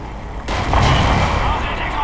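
A single heavy tank cannon blast in a video game bursts in sharply and rolls into a booming rumble that lingers to the end.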